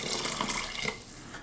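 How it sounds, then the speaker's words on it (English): Tap water running steadily into an Instant Pot while making pork sinigang, a continuous close splashing hiss that fades out near the end. "I'm gonna add a couple more cups of water"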